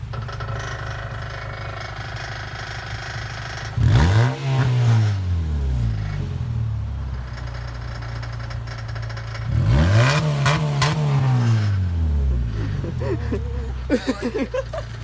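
A Mazda car's engine revs hard twice in sweeping bursts, rising and falling over a rough idle, with a loose exhaust rattling and buzzing underneath, close and loud.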